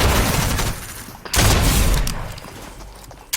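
Heavy shotgun blasts in a Spanish-language shooter match, booming and close, with one big blast after a dense opening stretch of firing and a sharp report at the very end.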